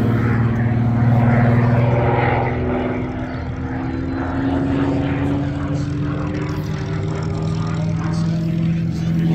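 Large propeller-driven aircraft taxiing at an outdoor air show, a loud steady engine drone with a slowly shifting pitch that holds for the whole stretch, no voices over it.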